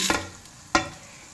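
Beef and masala cooking in a pan, with two quick stirring scrapes over a soft background sizzle, close by and without speech.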